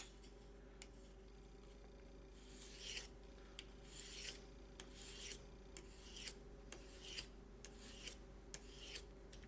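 A knife drawn heel to tip along a sharpening stone or rod, a series of quiet rasping strokes repeating at an even rhythm against a steady low hum, close and faint with no talking.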